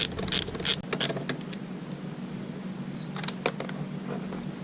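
A ratchet wrench clicks rapidly while loosening 10 mm charcoal box bolts on a 2020 Suzuki DR650 motorcycle, with quick close ratcheting bursts at the start and again near the end over a low background hum.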